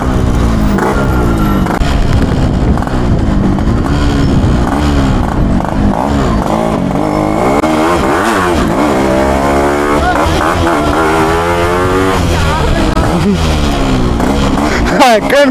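A Yamaha RX-Z two-stroke motorcycle engine revs loudly and close for a long stretch, its raspy note sweeping up and down with repeated throttle blips while riding.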